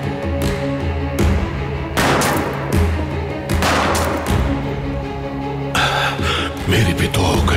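Several loud, sharp gunshots ring out one after another at irregular intervals, each with a booming tail, followed by crackling bursts.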